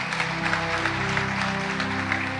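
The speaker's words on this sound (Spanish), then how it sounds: "¿Cuántos le pueden dar un fuerte aplauso a nuestro Dios?" A church congregation applauds during a Spanish-language sermon, steady dense clapping at moderate distance with a sustained musical tone underneath.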